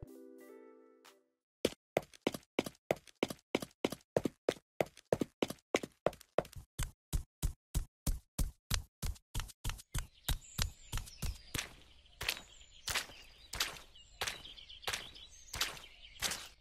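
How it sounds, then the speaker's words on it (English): Footsteps in the demo version of the video game Yandere Simulator, a steady run of crisp, evenly spaced steps that starts after a short musical tone and quickens slightly, with a soft background hum joining later. "Sound effects that didn't exist in 2015 builds, such as footstep, now exist in the demo version, making it much more immersive."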